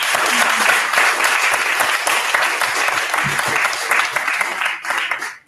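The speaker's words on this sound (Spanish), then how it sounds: "Vamos a brindarle un aplauso al que preside sobre todos nosotros" A group applauds at an Alcoholics Anonymous meeting, a dense sustained clatter of many hands that holds steady and then stops abruptly near the end.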